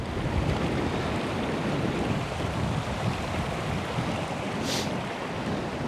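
River rushing at a remote Cairngorms river crossing, a steady broadband wash of flowing water with some wind buffeting on the microphone, continuous and fairly close.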